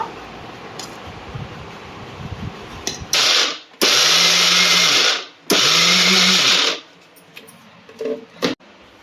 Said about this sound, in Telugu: పప్పు చల్లారింది మనం మిక్సీ పట్టుకుందాం ఇప్పుడు